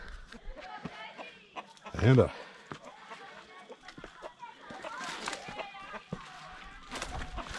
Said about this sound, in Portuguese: Muitas galinhas.